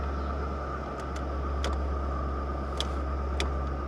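A formerly flooded police car's engine idles with a steady, smooth hum and low drone, close and continuous, with a few faint high clicks over it.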